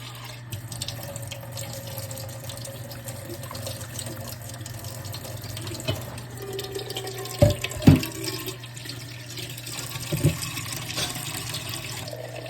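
Cold tap water running steadily into a sink or container to submerge salted cabbage for kimchi, a continuous hiss with a few louder splashes and clunks partway through.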